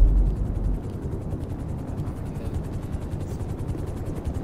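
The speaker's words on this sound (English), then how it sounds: "Yeah, I'm flying a helicopter" A helicopter flying out over the ocean in GTA Online, its rotor beating in a fast steady pulse under a constant engine rumble, loud and close throughout.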